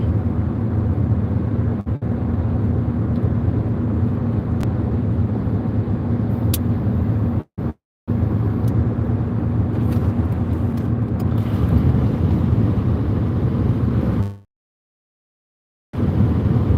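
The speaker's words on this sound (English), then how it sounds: "the soothing sound of wind coming through a window as people are driving down the" Steady broadband wind roar through an open car window while driving down Highway 99, loud and continuous with brief dropouts, then cutting to silence near the end.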